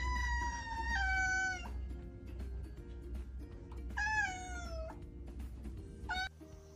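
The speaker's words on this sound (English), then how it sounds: "C for cat" A cat meows three times, long drawn-out cries with falling pitch, the last one short, heard clearly over a quiet low background.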